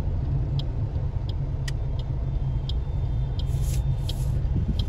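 A car idles and rolls slowly through a gurdwara parking lot, a steady low engine hum close by with a few faint clicks and light squeaks over the drone.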